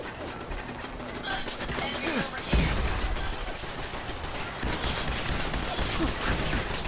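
Automated turrets open fire in a robot assembly-line lair in Fallout 4, with rapid bursts of gunfire and clanking mechanisms running continuously over a busy game soundscape, including one sharper heavy impact partway through.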